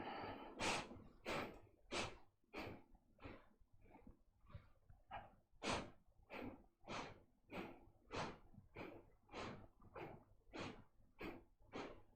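Reverse breathing practised in a chi kung session: a long, steady run of about seventeen sharp, forceful breaths at an even rhythm, faint and fairly close, with no talking.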